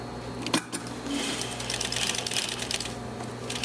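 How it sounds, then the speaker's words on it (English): Sewing machine back stitching beside an invisible zipper at the seam allowance, a steady close mechanical whirr with rapid rhythmic needle clatter throughout. "So I'm going to back stitch just to that seam allowance, that one side only."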